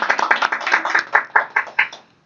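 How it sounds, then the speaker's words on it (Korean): A small group at a reading club meeting claps in welcome, a brief run of close, quick hand claps in a steady rhythm that fades out after about two seconds. "우리 함께 박수로 환영하겠습니다."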